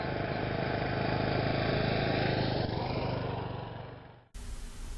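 A motorcycle riding steadily at 15 miles an hour, a continuous close engine drone with wind noise that fades over about four seconds before a cut to a brighter rush of noise.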